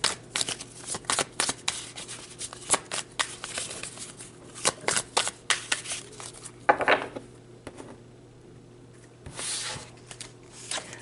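Tarot cards are shuffled by hand in repeated quick riffling bursts with short pauses between, crisp and close, followed by a softer sliding shuffle near the end.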